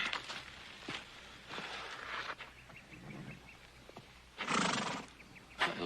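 An injured, bandaged horse whinnies and neighs in bursts amid clip-clop hoofsteps and faint rustling, fairly quiet and close by.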